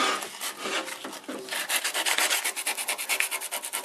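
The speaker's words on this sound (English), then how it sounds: "Just going to run a bit of sandpaper over it now." Hand sanding of a glued, dried wooden piece with sandpaper, a close dry rasping rub in steady back-and-forth strokes that turn quicker and more rhythmic toward the end.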